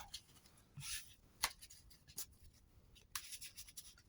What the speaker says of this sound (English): So I'm just going to pile shuffle right here.